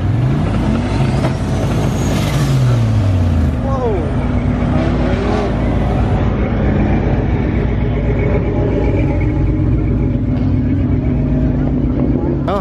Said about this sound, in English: He's doing a burnout.